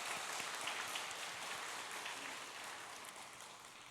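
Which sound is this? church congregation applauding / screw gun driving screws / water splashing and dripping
church congregation applauding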